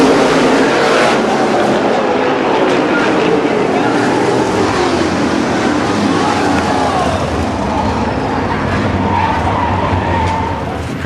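Modified race cars in the USA Modifieds "Run For The Gun" 50 at Winchester Speedway roar around the track in a loud, continuous mass of engine noise. Engine notes swell and shift as the cars pass, with crowd or commentary faintly underneath.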